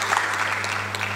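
Brief burst of audience applause at a Tanzanian international forum session honoring women ministers, a dense wash of clapping from a hall crowd with a low electrical hum underneath.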